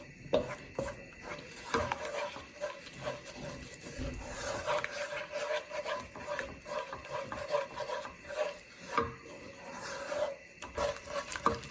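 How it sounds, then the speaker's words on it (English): A spoon scrapes and rasps continuously against a non-stick pan while stirring a thickening flour-and-liquid paste for brioche bread, a close, busy, gritty rubbing with small knocks throughout. "You want to keep on stirring until you make a little bit of a thicker sort of paste"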